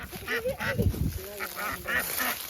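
A duck quacks and honks repeatedly up close as it is being crushed, its calls overlapping with excited voices.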